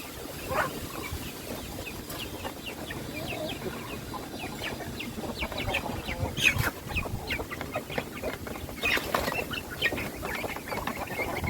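Several chickens cluck and squawk nearby in a busy, overlapping chorus, with occasional louder calls over a steady background of farmyard noise.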